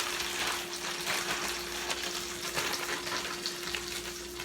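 A piece of fish frying in hot grease, a steady close crackling sizzle with a constant low hum underneath.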